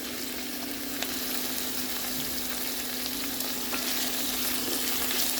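Capsicums fry in a hot pan for a sweet and sour chicken with sesame, giving a steady, dense sizzle that holds level throughout, with a few faint clicks of stirring and no talk.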